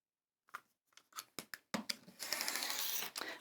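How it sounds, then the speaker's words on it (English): Scissors cut around a quilted fabric panel, starting with a few sparse, crisp snips that quicken into a close run of dense, continuous cutting and rustling, fairly quiet and with no voices. "let's just cut around here"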